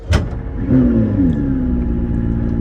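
A McLaren P1 engine revs up close, rising into a loud sustained roar that holds steadily.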